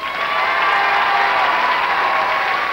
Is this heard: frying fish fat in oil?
no